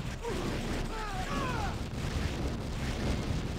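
Two advanced power plants blowing up in Command & Conquer: Red Alert, a rumbling explosion with creaking, crumbling debris and a few whistling tones that continues as a low roar, with no talking.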